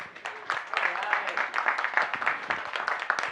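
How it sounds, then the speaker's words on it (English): Scattered clapping from a small group at an end-of-year meet-and-greet cocktail event, uneven and moderately close, mixed with a few voices. "If you can please just give him a round of applause."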